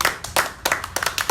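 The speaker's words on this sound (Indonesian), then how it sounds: "Tepuk tangan dulu" A small group clapping briefly in a casual indoor talk setting, a handful of sharp, uneven hand claps in quick bursts, close and fairly loud.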